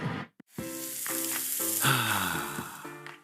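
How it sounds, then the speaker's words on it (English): A continuous hissing, rattling pour of small scent booster beads into laundry over a steady background hum, loud and close, with faint tonal notes beneath. "That's the sound of James adding long-lasting Gain scent boosters to his laundry this morning."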